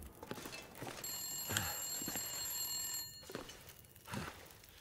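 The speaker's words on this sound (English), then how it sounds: "Where's that phone ringing?" A telephone rings in The Long Dark, a bright sustained electronic bell tone lasting about two seconds, heard over footsteps thudding across a wooden floor indoors, with no voices.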